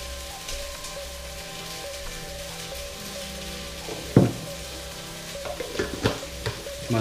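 Food for a Mediterranean paleo breakfast sizzles steadily in a frying pan, with a few sharp scrapes and clatters as it is stirred close by.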